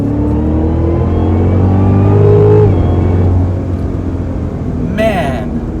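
A Cadillac CTS-V3 engine accelerating on a winding backroad, a loud, rising drone that swells, then eases off as the car rolls through a turn, with someone talking over it.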